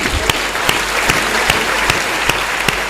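At a Hindi poetry gathering (kavi sammelan), the audience claps loudly in a regular rhythm, sharp beats roughly every half second over a wash of crowd noise, with no talk on top.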